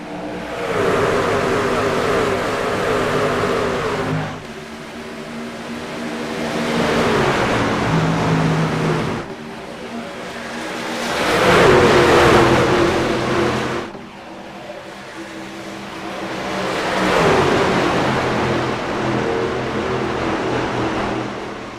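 Race trucks in the iRacing Truck Series video game, with loud engines roaring and revving in repeated waves as the field accelerates after the green flag, some passes swelling and fading.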